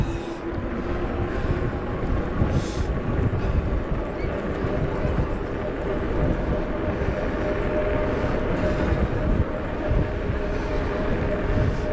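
A strong 20–25 mph headwind roars across a cyclist pushing a heavy 40-plus-kilo loaded bike, with steady, dense buffeting that stays loud for the whole stretch.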